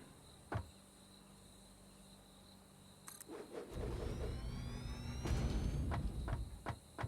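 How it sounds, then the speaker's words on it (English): Crickets chirp in Satisfactory, a faint, steady insect trill running under scattered clicks and a rising engine-like rumble in the second half. "Crickets."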